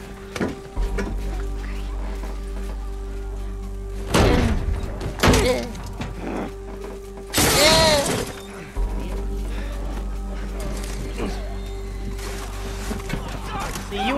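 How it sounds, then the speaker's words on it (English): Glass shattering in The Last of Us video game, two sharp crashing bursts among thuds and game sounds, with people talking over the action. "Glasses don't be perfectly shattering like that."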